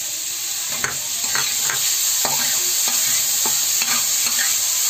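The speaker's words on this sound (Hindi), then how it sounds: "मैं जो सेव या एप्पल को जो मैं ये कद्दूकस करके रखी हूँ ना उसको हम इसमें डाल करके भूनेंगे थोड़ी देर के लिए" Grated apple sautéing in melted butter in a pan, a constant bright sizzle with regular stirring strokes and scrapes repeating every half second or so, close and clear.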